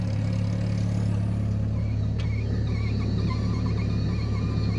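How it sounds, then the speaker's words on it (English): A rebuilt fuel pump runs in a VW Golf MK3 that is low on fuel, a steady low drone and hum with engine rumble underneath, continuous and close throughout. "you can hear the pump going."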